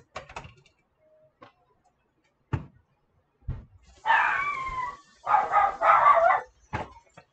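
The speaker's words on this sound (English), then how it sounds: "My dog is going crazy." A dog barks and howls in several loud bursts after a few sharp knocks, with quiet gaps between them.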